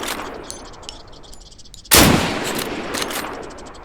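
Gunfire in the video game Deadside, a sudden loud shot after a quiet stretch, its sharp burst decaying into a lingering echo.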